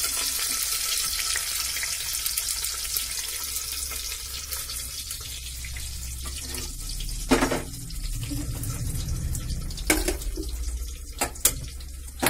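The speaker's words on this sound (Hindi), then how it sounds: "चावल धोना है अभी" Rice is rinsed under a running kitchen tap for sweet rice, and water flows steadily into a sink for the whole stretch. A few sharper splashes and knocks from handling the rice break through near the end. Nobody speaks.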